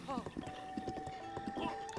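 Horse hooves clip-clopping in The Legend of Zelda: Breath of the Wild, a steady run of repeated hoofbeats heard close up with game music and other voices mixed in underneath.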